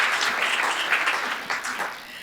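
Brief burst of audience applause at an on-stage interview event at the Appel Salon, dense close clapping for a couple of seconds alone without speech.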